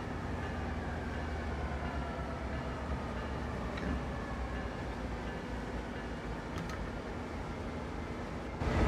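An MP36 locomotive in Train Sim World on a San Francisco to San Jose route, a continuous rumbling run with steady rail noise and faint clicks, ending in a small rise.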